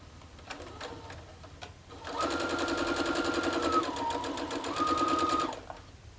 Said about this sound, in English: Chain piecing is just where you don't cut the thread and you keep sewing